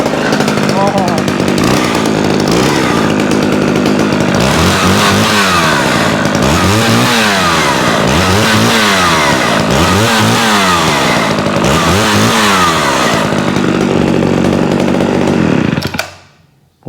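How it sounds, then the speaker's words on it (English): An old Homelite SXL chainsaw idles and revs, loud and close, with a rough buzzing drone and repeated rising-falling throttle surges in a steady rhythm before cutting out abruptly at the end. "What a cool old saw."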